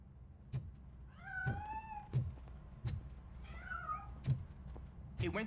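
A cat meows in the RoboCop: Rogue City video game, several rising and falling cries over a steady backdrop punctuated by regular thudding knocks, with brief talking.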